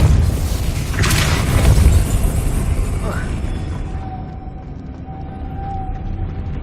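A Depulso force spell cast in the Hogwarts Legacy game lands as a loud booming blast early on, its rumble fading into a low ambient drone with a faint tonal hum near the end.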